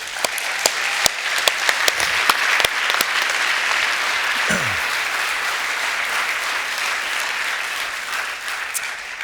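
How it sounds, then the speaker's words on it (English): Congregation applauding the elders' wives at an elder installation service, a loud, sustained patter of many hands with a few sharp, distinct claps standing out, running the full length without pause. "just give them a round of applause"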